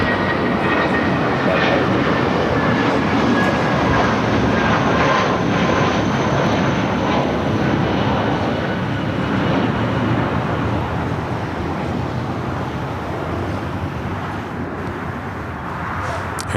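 Viva Aerobus airliner taking off from the south side of LAX, a loud, sustained jet roar that swells early and eases slowly as the aircraft climbs away, with no voices over it.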